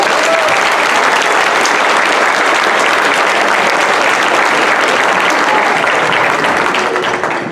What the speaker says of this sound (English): let's give one more round of applause to our fifth graders